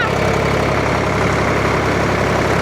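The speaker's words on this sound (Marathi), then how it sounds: "उसाचा भरलेला ट्रॅक्टर पूर्णपणे घेऊन निघालो या" A tractor loaded with sugarcane heading to a sugar factory, its engine running in a loud, steady low rumble with continuous vibration close by, no voices.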